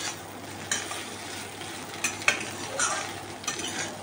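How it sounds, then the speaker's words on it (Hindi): Idli pieces fry in a pan over a low to medium flame with a steady, close sizzle, broken by light scraping and clinks as a spoon stirs them. "1 मिनट तक इसे फ्राई करिए लो टू मीडियम फ्लेम पे।"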